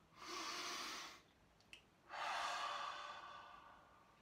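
A slow, deep breath at the close of a Qigong exercise: a long, airy inhale, a short pause with a faint click, then a longer, gently fading exhale, close and quiet.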